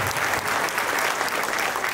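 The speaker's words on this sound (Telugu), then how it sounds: "ఒకసారి క్లాప్" An audience claps at a Vestige business meeting, a dense, steady burst of applause that fills the whole short moment.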